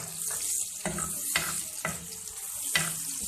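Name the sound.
onions frying in hot oil with garam masala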